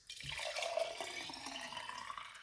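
Watermelon, lemon and ginger juice poured steadily into a container, a continuous close liquid gurgle and splash lasting a couple of seconds without talk.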